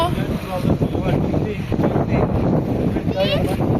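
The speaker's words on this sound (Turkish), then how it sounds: "Çok rüzgar esiyor." Strong, steady wind buffets the microphone with a constant low roar, mixed with crashing surf and a voice in the background, on Alaçatı beach in Çeşme.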